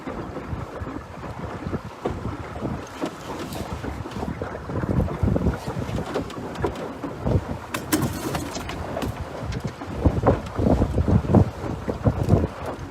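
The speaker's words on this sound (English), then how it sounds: "That's the open water wind you just saw." Strong open-water wind buffets the microphone aboard a sailboat, a loud gusting rush with surging peaks and the wash of water, rising harder toward the end.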